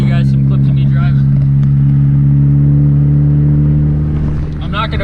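A car being driven on the road, with a steady low engine drone and road hum that holds at even loudness throughout, up close from inside the vehicle; faint voice-like sounds appear now and then.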